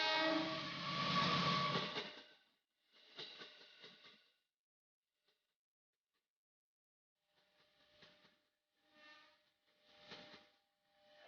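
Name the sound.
train passing railway crossing JPL 81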